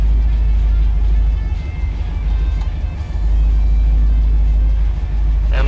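A 1979 Chevrolet Camaro with nearly failing brakes drives along, its engine giving a loud, deep, steady rumble that swells and dips slightly, heard close up from inside the car.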